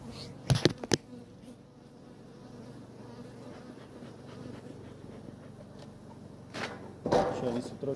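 Agitated honeybees buzz in a continuous low hum around a hive, with a few sharp knocks and handling noises at the start and end.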